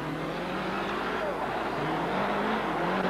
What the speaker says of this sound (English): Here we see David Llewellyn and Keith Tennant in a 1990 Shell-sponsored Lancia Delta four-wheel drive.